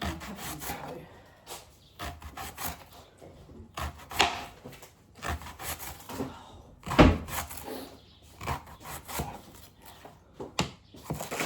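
A knife cuts through a leek on a board for a smoked salmon soup, giving a series of scraping, crunching strokes at close range with brief pauses between cuts.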